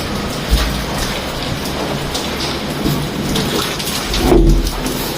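Heavy rain pours steadily during a typhoon storm, a dense close hiss of drops on surfaces with deep rumbles of thunder rolling underneath, one near the start and a stronger one toward the end.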